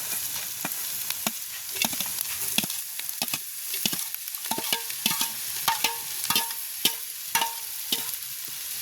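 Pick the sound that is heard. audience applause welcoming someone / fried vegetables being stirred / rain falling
fried vegetables being stirred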